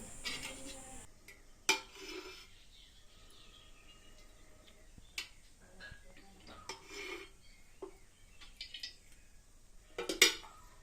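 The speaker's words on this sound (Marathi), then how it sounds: "आपण चुलीवरती टोप ठेवला आहे त्यामध्ये तेल टाकायचं आहे" A pot clanks onto a wood-fired chulha stove as oil goes in for a tempering, with sharp metallic knocks and scrapes at scattered moments over a quiet room, faint and close.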